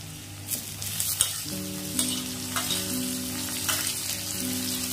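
Crushed garlic and chopped onions fry in hot oil for a shankar (stingray) fish dish: a strong, continuous sizzle with spatula stirring and scraping, close up, alongside sustained tonal background music.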